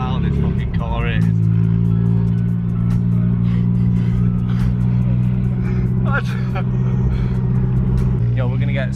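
Straight-piped Audi TT Mk1 exhaust blaring very loud and close, a steady deep drone with revs swelling throughout, while people talk and shout over it.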